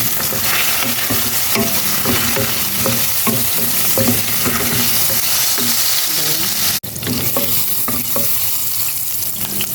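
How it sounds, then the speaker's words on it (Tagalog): Ginger sautés in a hot pan with a loud, steady sizzle, stirred by a utensil that scrapes the pan at intervals and breaks off briefly near the end. "Una, lutuin lang muna natin yung luya para pampawala ng lansa"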